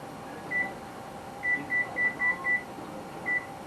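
An oven's control panel gives a series of short, high electronic beeps as its timer is set: one single beep, then five quick beeps in a row and a final beep, moderately loud over a low kitchen hum.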